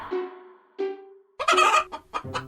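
A hen clucks as a sound effect for the Jack and the Beanstalk golden-egg story: two drawn-out clucks, then a burst of quick, loud, agitated squawks and clucks, close and clear with no talking.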